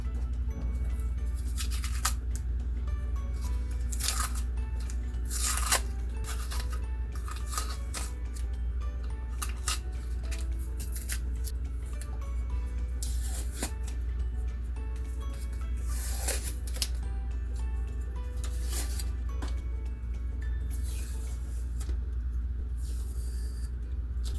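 Fresh black paint being scrubbed off a telescope focuser tube: quiet, repeated scratchy brushing strokes in irregular bursts over a low steady hum, with no speech.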